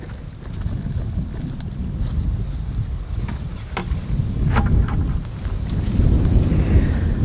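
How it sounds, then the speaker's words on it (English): Wind gusting outdoors on a hot homestead day as clouds pass over the sun, a steady low rumble of buffeting across the microphone that swells louder toward the end, with no voices. "That wind, boy."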